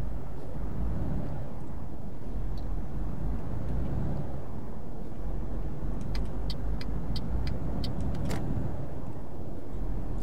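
Traffic cars drive along a road in the Euro Truck Simulator 2 video game, giving a steady broadband engine and road rumble throughout, with a few brief high clicks near the end.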